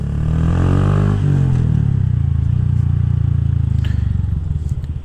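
A Honda Grom motorcycle engine hums steadily as it rides along, loud and close, with a slight rise in revs partway through and a low rumbling drone throughout.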